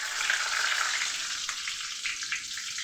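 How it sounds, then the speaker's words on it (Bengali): Cumin seeds and a bay leaf sizzle in hot oil as a steady, bright hiss that holds evenly for a few seconds, close and moderately quiet. "এই আমি ফোড়ন হিসাবে দিলাম জিরা, গরম হয়ে গেছে। সাথে দিয়ে নিচ্ছি তেজপাতা"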